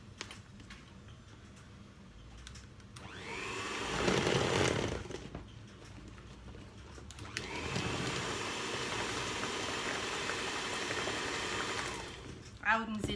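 An electric mixer whirs through muffin batter, running in two steady bursts with a pause between them, its buzzing motor loud and close, while someone speaks Arabic around it.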